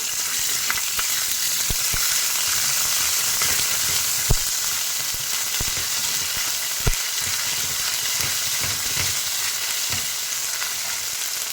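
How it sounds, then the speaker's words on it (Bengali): Potato and cauliflower sizzle steadily in a pan as a spoon stirs them with soft scrapes and a couple of sharper knocks, with no talking over it. "একটু হালকা নাড়ব।"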